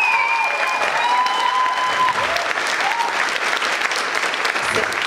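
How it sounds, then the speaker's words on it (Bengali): A theatre audience gives the play's director steady, dense applause that continues evenly throughout, with a faint tonal whine above the clapping. "ওনার জন্য জোরে হাততালি একটা।"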